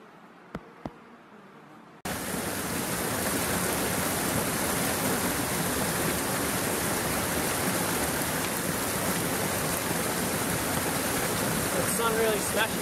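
A mountain stream flowing through a New Zealand valley, a dense steady rush of water that starts abruptly after a couple of seconds of near silence with faint clicks, close and continuous to the end.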